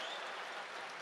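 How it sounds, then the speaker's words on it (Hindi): Brief burst of audience applause at a Hindi comic poetry gathering, dense steady clapping from a crowd, fairly faint and without a break over one second. "एक बार ताली बजाओ"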